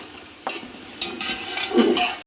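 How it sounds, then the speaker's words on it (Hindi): Tomatoes and green chillies are stirred and fried in a pot for mutton pulao, a close sizzle with scraping spoon strokes and a couple of metallic clinks against the pan before it cuts off abruptly. "अब मैं इसमें टमाटर और सब्ज़ मिर्चें शामिल करूंगी। इसकी अच्छे से भुनाई कर लूंगी।"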